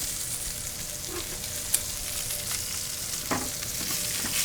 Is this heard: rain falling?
no